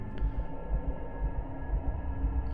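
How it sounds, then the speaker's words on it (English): A heartbeat effect in the Soulcreek horror game, set in the woods, pulses as a steady rhythm of soft, low thumps beneath a constant droning hum. "I wait, my heart beating fearfully in my chest"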